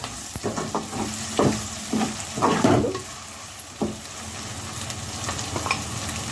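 About ten chopped green chillies fry in a pan with ginger and onion, giving a constant close sizzle broken by several sharp scrapes and clatters of stirring.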